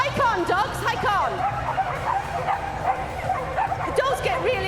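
Excited dogs at a canine cross country display at Crufts 2013 keep up rapid, overlapping yips, barks and whimpers, loud and continuous, with crowd babble and talk mixed in.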